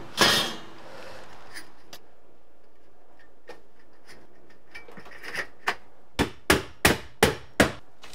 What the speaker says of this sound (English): Secure it with drywall nails.